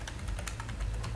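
Rapid keystrokes on a computer keyboard, a dense run of soft clicks at steady close range, with a low hum underneath and no voices.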